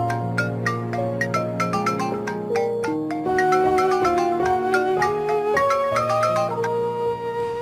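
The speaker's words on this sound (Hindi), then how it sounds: "सुहा, तुम्हारा फोन बज रहा है।" A mobile phone rings with a melodic ringtone tune that plays continuously and clearly. The stepping notes repeat as a steady, bright jingle with no voices over it.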